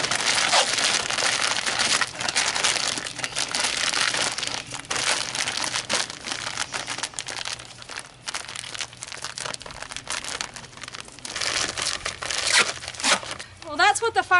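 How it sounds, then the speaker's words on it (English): Duct tape is rolled over and pressed onto a plastic bag of rabbit manure, loud close crinkling and crumpling of the bag with rasping tape noise throughout, with a voice speaking over it. "I just use duct tape and I roll it over and tape it shut."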